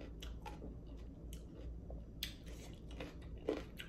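Close, crisp crunching bites of fresh cucumber during a mukbang meal, a few sharp snaps spread over several seconds with soft chewing in between, fairly quiet and without talk.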